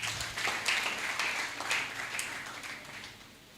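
Church congregation applauding to acclaim the Lord, a dense wash of clapping hands that swells and holds steady for a few seconds before tapering slightly, fairly loud and without speech.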